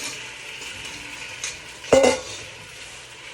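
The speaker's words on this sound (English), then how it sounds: "So I'm gonna pour in the whole tomatoes now." Whole tomatoes hit a hot pan for red sauce, giving a steady background sizzle with one sharp, louder spit of frying near the middle, while a voice speaks quietly.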